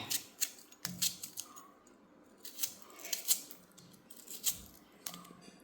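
Knife cutting through half an onion in a home kitchen, a series of crisp, irregular chops close by, with short pauses between bursts of cuts.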